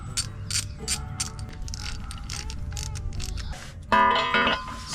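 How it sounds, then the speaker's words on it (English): A hand ratchet clicks in quick repeated strokes while removing bolts from a Jeep skid plate, close and crisp, with a louder burst of ratcheting near the end. "First, we're going to remove 2 bolts on each side."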